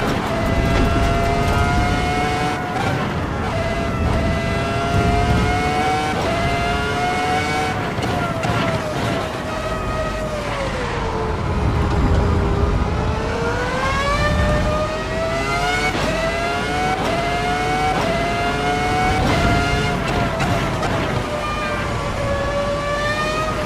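A Formula 1 car's engine in the Assetto Corsa Evo racing game screams steadily up and down through the gears on a track, rising and falling pitch with brief dips at shifts, loud and continuous under occasional faint talk.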